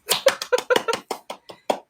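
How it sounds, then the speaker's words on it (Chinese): Hands clapping during a livestream, about ten sharp claps in a quick, slightly uneven rhythm, close and clear with no talk over them. "自己给自己鼓掌"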